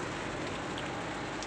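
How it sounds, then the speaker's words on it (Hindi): Heavy rain pours steadily in a dense, unbroken hiss during a road trip from Tinsukia to Guwahati in Assam, loud and close, with no talk. "अभी देखिए पूरा बारिश ही बारिश चल रहा है।"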